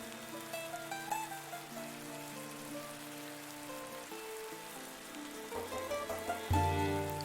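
Steady rain patters in the video game Dead In Vinland, a soft continuous wash underneath sustained tonal game music that swells near the end.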